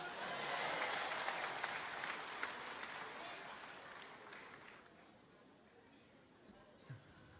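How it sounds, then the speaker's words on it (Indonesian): Audience clapping at a Christmas celebration, fairly distant and moderate, strongest at the start and tapering off over several seconds into crowd murmur and chatter. "Boleh tepuk tangan?"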